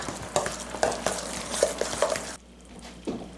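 Ricotta cheese and an egg being mixed in a bowl, a run of close, wet, squelching stirs at an uneven rhythm, then a brief pause and one last stroke.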